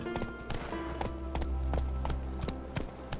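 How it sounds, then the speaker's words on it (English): Horse hooves clip-clopping in the video game The Witcher 3: Wild Hunt, a rapid run of sharp hoof strikes over a low rumbling game soundscape with a faint tonal hum. "Whoa there, Roach"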